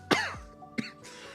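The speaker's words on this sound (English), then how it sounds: "I'm coughing." A person coughs hard once, followed by a shorter second cough, close and loud against a quiet room hum.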